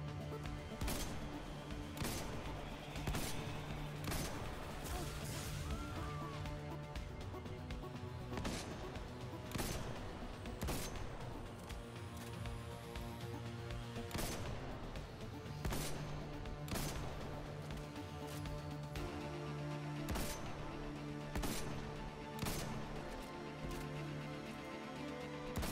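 Sleeper Simulant rifle fired at the Taken Knight in Destiny 2 Forsaken, a long series of loud, sharp shots spaced roughly a second or two apart over game music and rumble.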